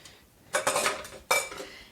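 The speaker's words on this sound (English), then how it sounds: "Scraping this all out of the press." Minced garlic being scraped out of a metal garlic press, two short bursts of scraping and light metallic clinking, close and fairly quiet, no speech.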